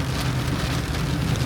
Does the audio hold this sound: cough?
no